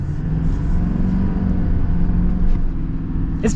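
A 2024 Chevy Silverado HD Z71 diesel truck accelerating, giving a steady, close, heavy low rumble that holds even throughout with no voices.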